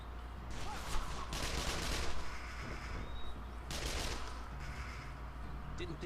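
Gunfire in Call of Juarez The Cartel: several bursts of distant, rattling shots with a steady rumble beneath, quiet overall, with no speech.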